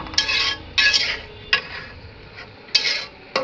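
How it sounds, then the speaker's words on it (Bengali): Spice paste being stirred and fried in a pan for a Bengali fish curry, with four sharp scraping strokes of a spoon against the metal pan over a low, steady sizzle. "মশলাটা কষিয়ে নেব।"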